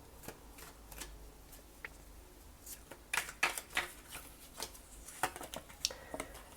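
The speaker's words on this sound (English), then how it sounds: "Let's lay out another couple of cards for general." Tarot cards are shuffled and laid out with soft, quiet riffles and crisp snaps as cards are placed one by one, intermittent and close.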